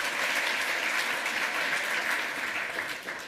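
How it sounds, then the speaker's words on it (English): Dense audience applause at a hacker conference lightning-talks session rings out for a presenter, a steady, loud roar of many hands that tapers slightly at the end. "give Jens an extra special round of applause"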